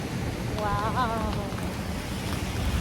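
Waves wash onto a beach beside a small island during a clear kayak tour, a steady broadband rush of surf and wind throughout, with a brief voice heard early on.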